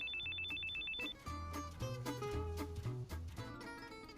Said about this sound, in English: And right then the phone rings